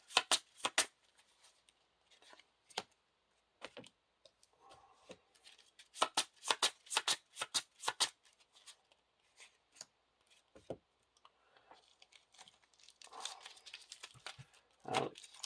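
A deck of cards for the Lord of the Rings card game is shuffled in bursts of crisp riffling and snapping, close and fairly quiet, with pauses and faint handling noises between.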